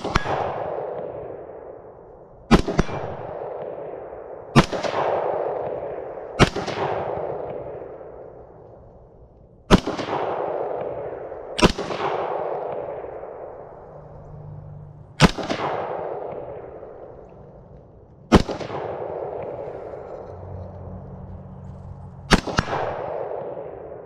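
Eight sharp AR rifle shots crack out at an outdoor shooting practice, spaced a few seconds apart, each loud report trailing off in a long ringing decay with no talking between them.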